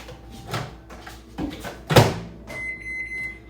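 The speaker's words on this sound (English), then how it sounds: "I'm going to pop that in the microwave." Food goes into a microwave oven at home: a few soft clunks and a sharp door thud, then a run of electronic beeps as it starts, close by and moderately loud.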